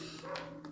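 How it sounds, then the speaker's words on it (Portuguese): Dogs bark outdoors somewhere nearby, a short, faint canine sound heard through a steady indoor background hum. "A cachorrada tá latindo aqui fora, gente."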